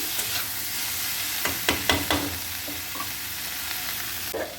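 Greens with pickle sizzle and fry steadily in a pan, with several sharp scraping stirs of a spatula in the middle and a clack near the end.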